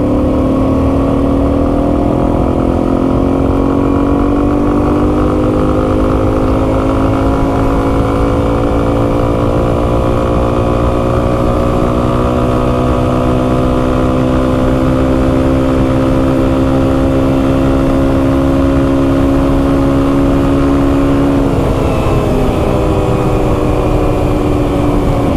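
A Yamaha TW200 dual sport motorcycle rides in fifth gear after a carburetor rebuild, its engine droning loud and steady with a slowly rising pitch, then easing off near the end, with no talk.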